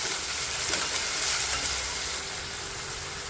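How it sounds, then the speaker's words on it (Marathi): Onion sautéing in a pan until translucent, a dense, even sizzle close up with light stirring, no speech over it. "याला फक्त थोडंसं ट्रान्सपरंट होईपर्यंतच आपल्याला परतायचं"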